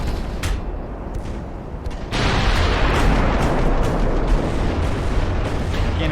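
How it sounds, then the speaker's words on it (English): A warship's ammunition detonates in Ultimate Admiral: Dreadnoughts, a naval battle game: distant rumbling gunfire gives way to a sudden loud, sustained roaring blast that keeps thundering for several seconds. "there's another ammo detonation"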